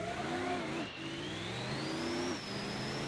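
A Ford Power Stroke diesel V8 swapped into a Crown Victoria revs hard, its engine note climbing steadily through the gears with a brief dip at a shift, loud and continuous with no talking.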